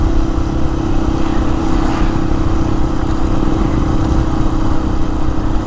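A motorcycle rides steadily over a potholed, damaged road, its engine a continuous loud drone with rough road rumble throughout, no talking.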